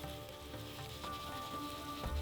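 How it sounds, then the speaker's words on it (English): Cumin seeds sizzle and crackle steadily in hot oil in a pan, a close, continuous frying hiss with small pops throughout, no talking. "Add it where most of the oil is so that it gets a frying texture."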